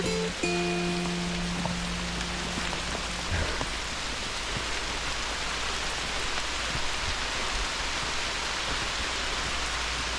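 Steady rain falls continuously on a forest trail in Shenandoah National Park, a dense hiss of drops on leaves, wet rocks and ground, with a few brief tonal sounds near the start.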